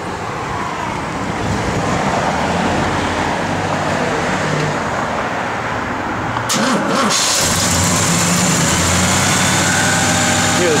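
A 1967 Oldsmobile 442 convertible engine cranks and fires up partway through, then settles into a steady, loud idle amid continuous rumbling engine and road-like noise, with no talking.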